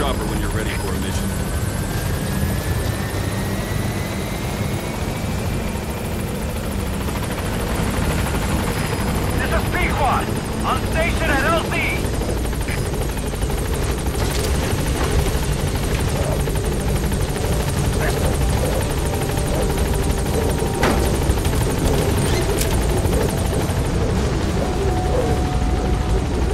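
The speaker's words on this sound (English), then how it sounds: "Board the chopper when you're ready for a mission." A helicopter arrives in the Metal Gear Solid V video game, its rotor drone loud and continuous throughout, with whine and engine tones layered over the steady thump, while a voice speaks briefly partway through.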